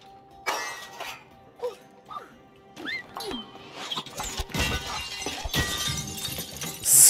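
Glass shatters in the co-op video game It Takes Two with a bright crashing burst and scattered tinkling, mixed with in-game voices and other game effects.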